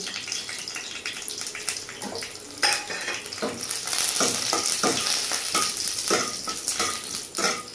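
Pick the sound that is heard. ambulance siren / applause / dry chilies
dry chilies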